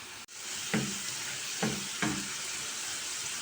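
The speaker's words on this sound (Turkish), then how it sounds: "Patates de kızarmaya başladı." Potatoes frying in a pan, a steady close sizzle with a few distinct scraping knocks as they are stirred at irregular intervals.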